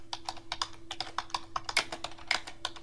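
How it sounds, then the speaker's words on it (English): Code being typed for a PHP tutorial on a computer keyboard, heard as a quick, close run of crisp key clicks in an uneven rhythm, quiet and alone without talk. "Let's just type that here."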